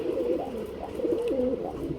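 A pair of coloured racing pigeons, a cock and a hen, coo continuously in soft rolling phrases, close and clear with no talking over them.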